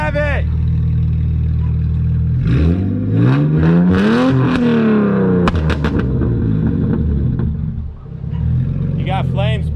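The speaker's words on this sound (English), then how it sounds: "Rev it!" LS-swapped BMW E46 M3 engine revving hard outdoors, a deep V8 roar climbing and falling through repeated blips with a rumbling idle between, while people talk and shout nearby.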